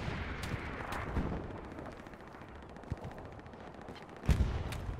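Gunfire in the World War II shooter game Hell Let Loose, scattered distant and mid-range shots and booms over a constant battlefield rumble, with one louder burst near the end.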